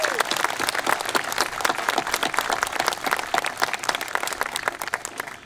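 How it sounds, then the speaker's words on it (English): A crowd at a Memorial Day ceremony gives a round of applause for the schools and students, many hands clapping in a dense, lively stream that holds steady for several seconds at close range. "So again, one more round of applause for the schools and the students."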